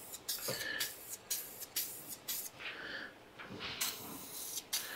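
A rattle can of aerosol automotive spray paint hisses in short, quiet bursts of varying length, with brief pauses between passes as the coating goes on.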